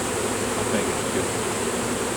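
A thick, steady hum of bees surrounds a large beehive during its removal, holding constant and fairly close throughout with no speech.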